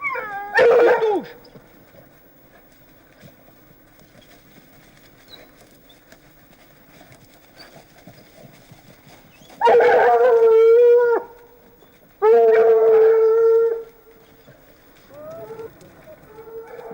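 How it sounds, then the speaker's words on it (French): Hunting hounds bay and howl in two loud bursts while chasing a hare, separated by a long stretch of quiet outdoor background, with a fainter yelp early on and at the end. "Les chiens rapprochent"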